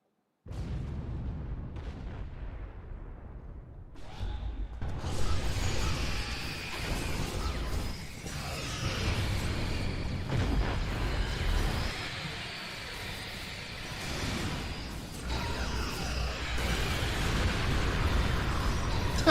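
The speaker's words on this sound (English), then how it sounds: "He finally got his explosions." Explosions in the video game Star Trek Online: a series of booming blasts and crashing bursts rumble on for nearly twenty seconds, with voices cutting in at times.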